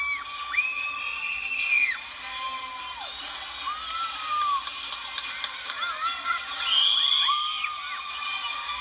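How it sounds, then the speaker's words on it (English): A crowd at a filmed cheer performance screams and cheers loudly and continuously, high shrieks and whoops rising and falling in waves throughout. "Everyone's like screaming so loud and I love it."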